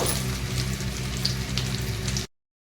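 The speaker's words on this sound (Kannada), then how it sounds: "ಸಾಸಿವೆ ಒಂದು ಅರ್ಧ ಟೇಬಲ್ ಸ್ಪೂನಷ್ಟು ಜೀರಿಗೆ ಒಂದು ಅರ್ಧ ಟೇಬಲ್ ಸ್ಪೂನಷ್ಟು ಹಾಕಿದ್ದೀನಿ ನೋಡಿ ಅದನ್ನು ಕೂಡ ಫ್ರೈ ಮಾಡ್ಕೋಬೇಕು" Garlic, mustard seeds and cumin fry in hot oil with a steady, dense sizzle that holds evenly for about two seconds and then cuts off abruptly.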